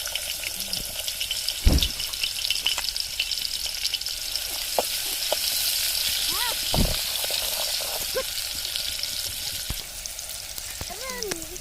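Onion fries in hot oil in a pan with a continuous crackling sizzle, punctuated by a couple of sharp knocks of a utensil and some faint background chirps.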